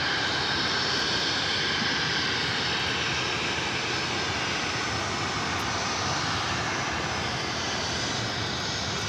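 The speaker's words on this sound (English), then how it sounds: "This is United Airlines 1791 taking off to SFO" A United Airlines jet airliner takes off from LAX's north side bound for SFO, its engines making a continuous broadband roar that stays loud and even throughout, with no voices.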